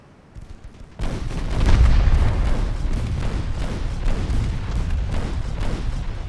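Small 2.9-inch naval guns blast in rapid, overlapping salvos in the warship game Ultimate Admiral Dreadnoughts, loud and booming with continuous rumble after a quiet opening second.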